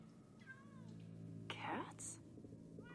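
A cat meows a few times in a high, wavering voice over steady background music and sounds from Minecraft: Story Mode, with brief bursts of noise.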